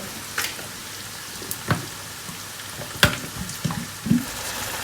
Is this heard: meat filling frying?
yes